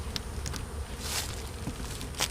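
Honey bees buzz around an opened hive in a bee yard. The buzzing is faint and scattered, with a few louder passes as single bees fly close, over quiet outdoor background.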